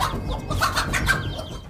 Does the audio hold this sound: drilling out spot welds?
no